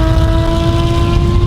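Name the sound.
Porsche 997 Carrera S engine and exhaust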